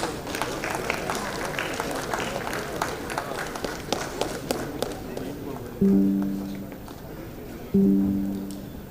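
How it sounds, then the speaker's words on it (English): Audience at a university convocation ceremony clapping in a dense patter that gradually thins and fades, followed by two short bursts of tonal sound near the end. "Request a round of applause from the audience"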